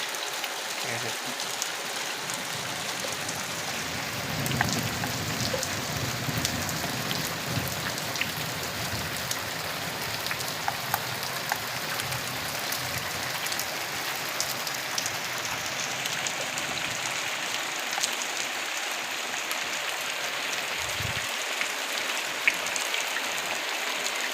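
Rain falls steadily at night, its continuous patter and scattered drop ticks filling the clip at moderate loudness with no talking.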